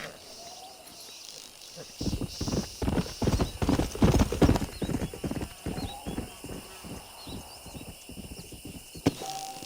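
Clip-clop of a stallion's hooves in Red Dead Redemption, a steady run of loud, close hoofbeats with a brief whinny, over crickets and insects in a quiet outdoor setting.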